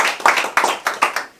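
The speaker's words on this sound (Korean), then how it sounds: "진관 큰 스님 큰 박수 한번 부탁드리겠습니다" A small group of attendees at a Korean public event claps for a senior Buddhist monk, giving a few sharp, rhythmic close claps over about a second and a half.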